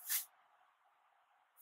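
A short, sharp hiss from an aerosol hair texturizing spray, a single quick burst followed by a faint lingering hiss.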